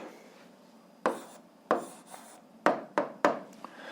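Someone writes down the answer to an algebra exercise. A handful of crisp tapping and scratching strokes land at uneven intervals, close and quiet, over a low hiss.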